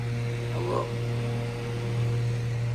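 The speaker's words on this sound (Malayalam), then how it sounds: "അപ്പോൾ ഫാൻ ഇട്ടിട്ടുണ്ട്. അതായത് സൗണ്ട് ഇട്ട് ഇവിടെ ഒരു ഫാനുണ്ട്." An electric fan runs inside a truck cab, giving a steady, close, unbroken drone with a strong low hum that holds level throughout.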